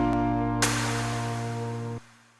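Sustained chords ring out with the bass note doubled an octave lower, holding steady, shifting once midway, then cutting off near the end, close and clear, with no voice.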